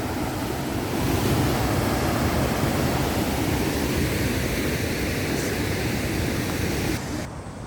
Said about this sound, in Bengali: এই যে দেখেন কি পরিমাণে এই যে পানির ঢল নামতে আছে এখনও।